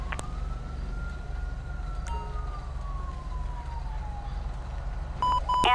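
A fire truck siren in the GTA 5 LSPDFR video game, responding code 3, wails in one slow rising and falling sweep over an engine drone, with brief electronic chirps and horn blasts at the end.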